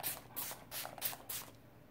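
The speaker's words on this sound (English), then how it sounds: "let's just give it a couple of test sprays" A makeup setting spray bottle gives four short misty bursts in quick succession, close and fairly soft, with quiet pauses between them.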